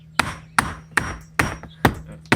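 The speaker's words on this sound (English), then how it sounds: "I'm just going to take my hammer" Six sharp hammer taps on a rotted wooden window sill, evenly spaced about half a second apart, close and crisp with a faint steady hum underneath.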